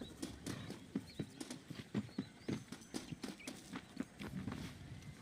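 Horse hooves clip-clop at a steady walking rhythm, clear and fairly close, in the Red Dead Redemption video game.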